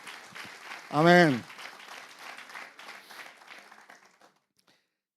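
A church congregation applauds during a Spanish-language service: one loud voice calls out, then a broad patter of clapping from the crowd rolls on for a few seconds and fades away.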